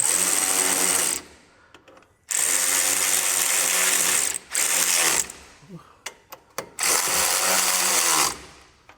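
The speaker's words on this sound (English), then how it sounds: "anytime you're starting screws or drawing something tight, you want to do a little on each side" A power driver runs screws into brake and strut parts on a Chevrolet Silverado, loud whirring bursts of a second or more separated by pauses and a few short blips, close up in a garage-like space.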